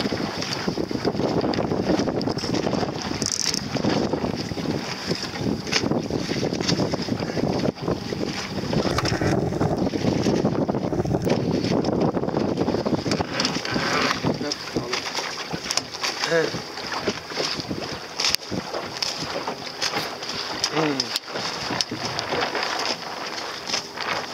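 An Optimist sailing dinghy under sail in wind on open water: steady rushing wind and water noise with buffeting gusts on the microphone, continuous and close, while people talk over it.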